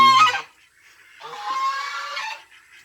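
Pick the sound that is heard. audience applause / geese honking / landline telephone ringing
geese honking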